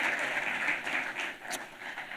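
Audience applause welcoming panelists at a family business conference, steady moderate clapping from a room of people, continuous and somewhat distant, no talk.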